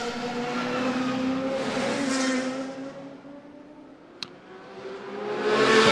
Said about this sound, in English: There you've got the Aston Martin going through as well